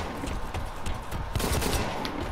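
Rapid automatic gunfire in the shooter game Blacklight Retribution, a dense rattling burst of shots that continues without pause, close and loud.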